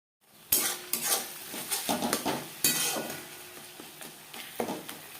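Spices and tomato being mashed in a pan for an aloo potol curry, repeated close metal scrapes and knocks of a spoon over a gentle sizzle, with no talking.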